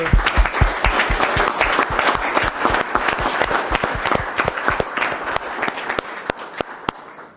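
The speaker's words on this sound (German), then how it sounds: "nochmal einen ganz herzlichen Applaus in die Runde von allen" An audience at a rail transport panel event applauds, with thick clapping that gradually thins to a few scattered, distinct claps before stopping.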